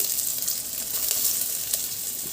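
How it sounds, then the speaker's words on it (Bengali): Chopped onion sizzles and fries steadily in hot oil, a close, even crackle with occasional sharper pops, no talking over it. "এরপর একের পর এক আমি তেলের মধ্যে দিতে থাকবো পেঁয়াজ কুচিটাও দিয়ে দিচ্ছি"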